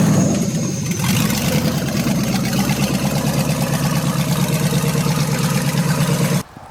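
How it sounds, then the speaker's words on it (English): A vehicle engine with a touchy throttle runs close and loud, giving a continuous rough, shaking drone with fluttering pulses that cuts off abruptly at the end. "The throttle is super touchy. Sounds like it's shaking."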